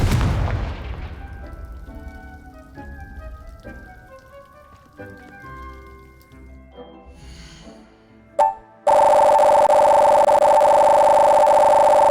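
Confringo, the blasting spell in the Hogwarts Legacy video game: a few soft magical plops and tones fade out, a sharp burst lands near the end, then a loud sustained ringing hum, with no talking.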